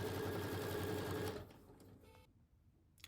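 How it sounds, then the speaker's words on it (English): A sewing machine stitches quilt binding with a steady, close, continuous motor whir and needle rhythm, then stops and leaves a quiet room with faint handling noises. "And then we just start stitching again."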